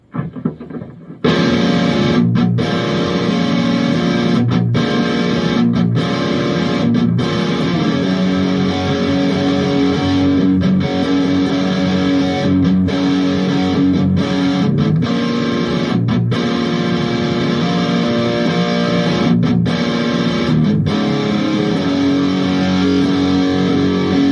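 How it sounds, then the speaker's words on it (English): Heavily distorted electric guitar chords ring through an Orange amplifier, loud and sustained, with brief gaps between strummed phrases. "Distortion, strictly coming from the orange now."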